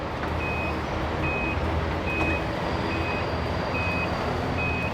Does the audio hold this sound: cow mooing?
no